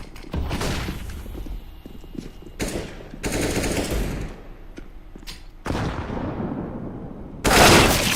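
Rapid automatic AK rifle fire in a video game, loud bursts of gunshots cutting in repeatedly through the clip with one especially sharp burst near the end, no talk.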